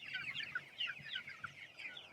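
Chickens on a farm cluck and chatter continuously, several birds overlapping in busy, moderately close calls.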